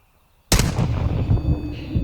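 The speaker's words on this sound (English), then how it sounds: "So that was clearly a sniper shot from an operator." A single sniper rifle shot in Modern Warfare 2 DMZ breaks a near silence with a sharp, loud crack, followed by a long rumbling echo that rolls on and slowly fades.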